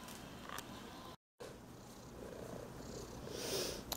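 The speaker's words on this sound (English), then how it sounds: "How cute are you, cat?" A sleepy cat lying on a kitchen island purrs softly and continuously up close, a faint rumbling hum broken by one brief dropout.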